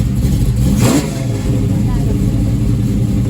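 A 1967 Camaro Super Sport engine fires up with a sharp revving burst, then settles into a loud, shaking, rumbling idle right nearby, with a voice talking over it.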